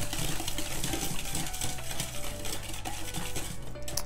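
A hand whisk beats martabak batter with vanilla in a bowl, making a continuous, fast, scraping clatter against the sides with no pauses.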